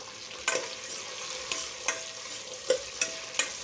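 Chopped onion and green chilies fry in a pan, with a steady sizzle under sharp spatula scrapes and taps that arrive every half second or so, near and clear, with no talking.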